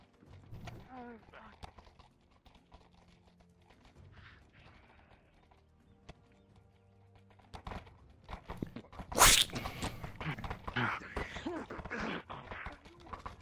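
Horses ride through an enemy camp during a battle, their hooves clip-clopping, mixed with sharp crashing bursts that swell louder toward the end.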